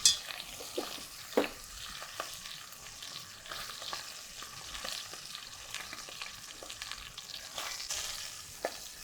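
Short ribs searing in hot oil in a pan give a steady, close sizzle and crackle with scattered sharp pops and a few louder spits, with no talking.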